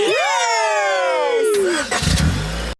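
Cartoon car engine starting, a swooping whine that drops in pitch before a rough, rumbling burst of engine noise, close and loud.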